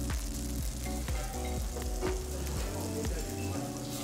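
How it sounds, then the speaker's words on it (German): Butter foams and sizzles in a frying pan before meat goes in, a steady loud crackling hiss with rhythmic scraping strokes, close up and without talk. "Bevor das Fleisch in die Pfanne gelegt wird, muss die Butter zuerst schäumen."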